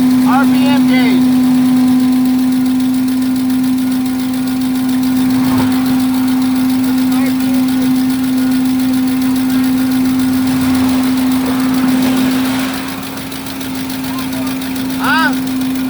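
An RV engine idles at a roadside breakdown, a loud steady droning hum with a constant low tone that runs unbroken throughout, while people talk over it.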